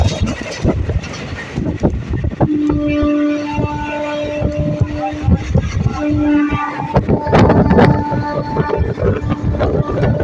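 Passenger train on the Azimganj–Katwa line running on the tracks, a steady loud rumble heard from inside, with a sustained horn sounding through the middle.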